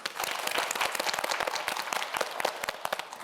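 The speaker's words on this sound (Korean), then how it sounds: "우리 김시온 학생에게도 여러분 박수 한번 보내주세요" Studio audience applauding a student contestant on a Korean quiz show, dense steady clapping from many hands filling the space for a few seconds, close and lively without speech.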